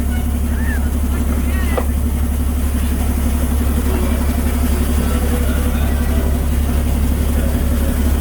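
A tour bus engine idles steadily with a deep, constant rumble throughout, loud and close, while a voice talks over it and faint background sounds come and go.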